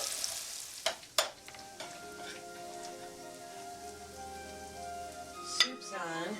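Cauliflower crumble fries and browns in a pan with a soft, steady close-up sizzle, broken by a few sharp scraping stirs, with faint kitchen hum in the background.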